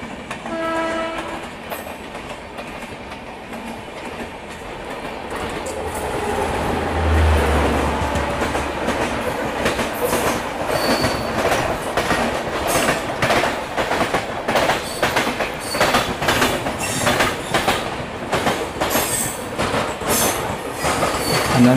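Lucknow Swarna Shatabdi Express rushing past at night at Anand Vihar station, a loud, sustained rumble with rhythmic clickety-clack of wheels over rail joints and a brief horn near the start, building as it passes close by.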